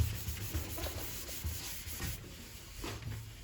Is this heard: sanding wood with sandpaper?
yes